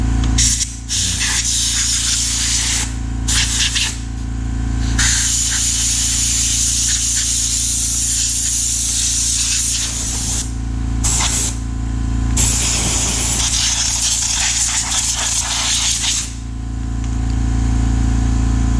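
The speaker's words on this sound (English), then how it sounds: "I got the air compressor running in the background there" An air compressor runs steadily in the background while bursts of compressed air blow debris out of a Dell PowerEdge R820 server, the loud hissing blasts starting and stopping in repeated spurts.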